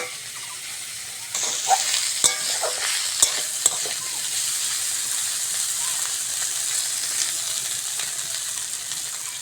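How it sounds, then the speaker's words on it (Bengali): Dried Loitta fish fries in a pan with a steady, close sizzle, broken by a few sharp clacks of a utensil stirring against the pan. "শুটকি মাছ ভালো করে ভেজে নিয়েছি"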